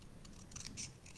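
Scissors snip through paper while making aperture cards, giving a few quiet, separate cuts over a faint background hum.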